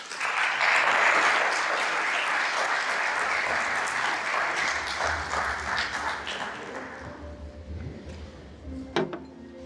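Sustained applause from a conference audience welcoming a guest speaker to the stage at an ocean-themed event, steady and full for several seconds, then thinning out into scattered claps and a few knocks.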